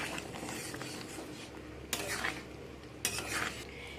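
A spoon stirs and mixes ghugni curry made with peas, egg and potato in a pan, giving soft continuous scraping with a faint sizzle underneath and two sharper metallic scrapes, quiet and close.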